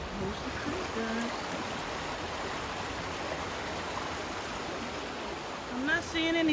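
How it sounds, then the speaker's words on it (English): A creek in the Columbia River Gorge flows with a constant rushing wash that stays level from start to finish, and a brief voice-like sound rises near the end. "Here's the creek, guys."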